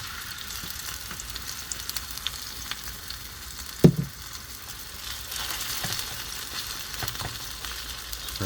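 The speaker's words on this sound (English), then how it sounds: "Now we add our marinated meat." Marinated meat sizzles and fries in hot oil in a pan, a steady crackle with one sharp clank of a utensil partway through, then louder bubbling as the pieces settle and fry.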